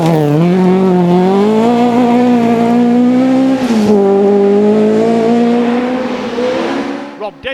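A Ford Escort Mark II rally car powers along a Welsh forest stage, its engine note loud and close with a steady rising and falling drone, easing briefly midway before pulling hard again and fading near the end.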